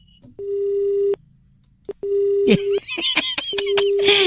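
A steady telephone busy tone after a hang-up sounds in repeated on-off beeps during a radio prank call, broken up by brief bursts of talk and noise near the end.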